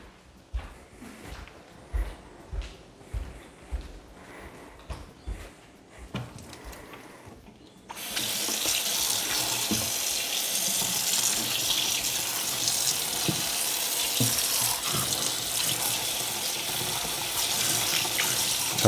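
A tap runs into a sink while a Dyson Wash G1 mop part is rinsed. Intermittent thumps and splashes come first, then a steady, loud rush of running water that continues to the end, with no talk.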